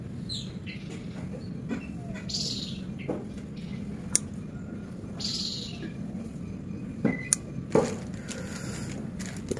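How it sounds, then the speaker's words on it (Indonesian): Pelamboyan bird song outdoors: scattered chirps and whistled calls, some sharp and bright, over a steady hum of background noise. "Itu burung pelamboyan guys, bunyinya guys mantap"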